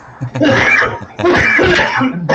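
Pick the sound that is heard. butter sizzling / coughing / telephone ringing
coughing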